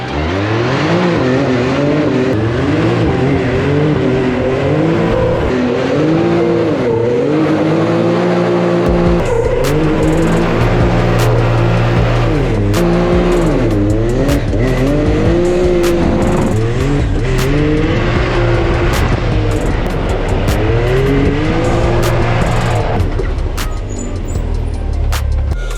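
A Can-Am X3 off-road side-by-side engine revs hard and repeatedly, roaring up and down through gears, loud and close, with tire noise and rumble throughout.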